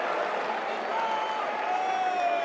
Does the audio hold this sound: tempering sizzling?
no